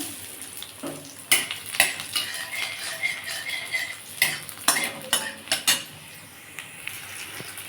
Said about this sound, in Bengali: রসুন কুচিটা বন্ধুরা একটু ভাজা ভাজা হয়েছে